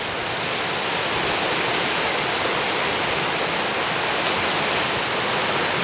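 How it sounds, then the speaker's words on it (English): A river flooded well beyond its banks near the confluence of the Willamette and Tualatin, rushing as a dense, constant broadband roar that fills the whole span evenly, heard from a high bank with no talk. "But the river's flooded way beyond its banks, and is over there where the trees grow."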